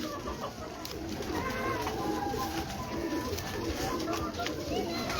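Karishma-breed pigeons on a Lahore rooftop coo and murmur softly in a low, continuous burble, with people talking nearby over the birds.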